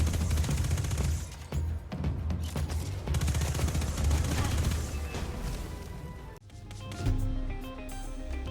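A rapid volley of submachine gun fire from the Recluse rings out against a boss in Destiny 2, dense and continuous for several seconds before a brief break and a lighter burst, with game effects layered underneath.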